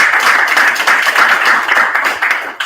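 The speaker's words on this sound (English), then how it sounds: "Let's give them a hand clap," Audience applause at a women's life summit event, a dense, steady wash of many hands clapping together for nearly three seconds, loud and sustained with only slight dips.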